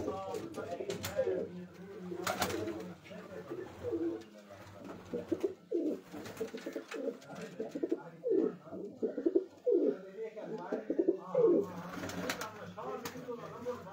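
Pigeons coo repeatedly on a rooftop where a flock of about 250 to 300 birds is kept, their soft, rolling calls close and overlapping in an irregular rhythm, with someone talking intermittently over them.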